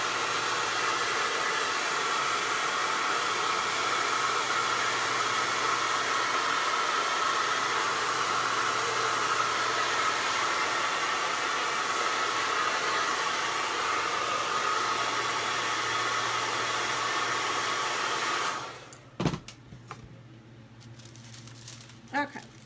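A hair dryer blows steadily on a thick spot of paint on the rickrack trim of a gingerbread man craft, a loud even whoosh for about eighteen seconds before cutting off, followed by a few light handling knocks.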